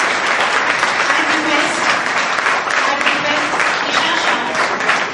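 Audience applause welcoming the Honorable Chairman, Dr. Vijay Shah, at an Indu Management Institute event; dense, steady clapping from a large crowd of students, loud and continuous throughout.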